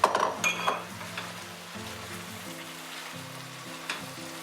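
Spinach wilts in a hot pan with a steady, close sizzle and frying crackle, a few clinks and stirring scrapes early on, no talking.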